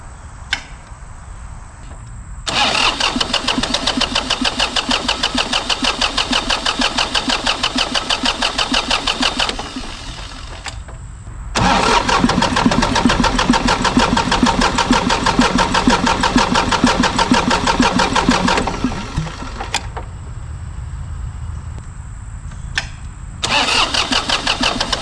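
An old John Deere tractor engine, left rotting in weeds for years, cranks over on the starter in long, loud, steady bursts separated by brief pauses.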